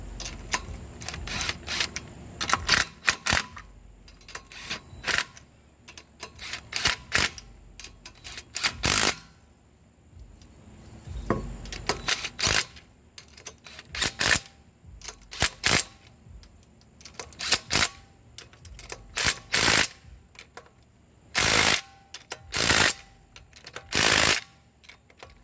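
A ratchet turns a 3/4 inch socket on a 2018 Subaru Impreza wheel during a brake pad change, giving repeated close, sharp clicking bursts in irregular runs with short gaps between them.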